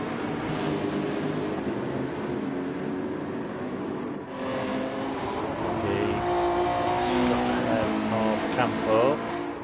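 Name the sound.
race car engines during a GR2 super cup race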